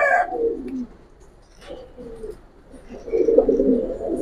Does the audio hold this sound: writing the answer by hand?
no